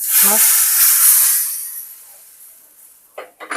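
A tempering of mustard seeds, fenugreek, dried chilli and curry leaves hits a Kerala-style mango pulissery curry with a loud, close hiss that fades over about two seconds, followed by a few light clatters.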